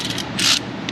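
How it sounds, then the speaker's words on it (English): A socket ratchet clicks as it starts threading a spark plug into a Chevy Silverado 4.3 engine, a close, brief burst of rapid ratcheting in the middle with faint clicks around it. "Coming in with the socket right here. Get that started."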